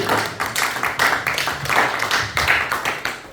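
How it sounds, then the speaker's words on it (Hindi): A church congregation at a Pakistani Punjabi and Urdu service in San Jose claps in unison for Sister Veena. The clapping is close, loud and steady, with rhythmic bursts about three per second. "सिस्टर वीना के लिए तालियां बजा दीजिए।"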